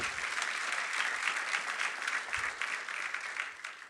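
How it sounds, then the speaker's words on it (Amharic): A church congregation claps together during a sermon, a dense, even wash of applause held steady for a few seconds with no voices over it. "አጨብጭቡ፣ ለጌታ ክብር ስጡ።"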